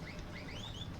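Old tractor horn in Farming Simulator giving a short, thin chirping toot much like a small bird, a few quick rising notes heard fairly faintly over a low engine idle.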